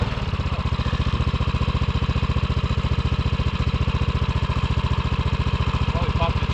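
A Rokon motorbike engine runs in deep snow with a steady, rapid, loud thumping idle close by. Someone talks over it briefly.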